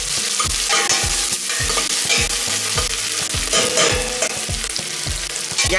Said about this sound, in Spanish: Dejan sofreír un poquito